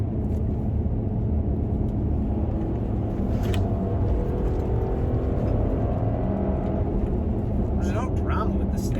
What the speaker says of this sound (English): It kind of has this very mechanical, like, kind of raspy VR6 sound